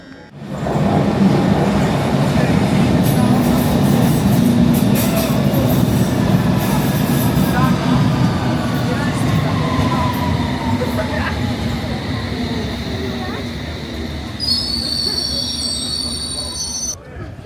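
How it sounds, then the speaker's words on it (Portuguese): A train pulls through a London station on the way to Stamford Bridge, its wheels squealing in long, high, wavering tones over a loud steady rumble of rolling cars, close by and continuous throughout, with a sharper metallic screech near the end. "Agora estou esperando o próximo trem aqui para poder a gente fazer outra baldeação"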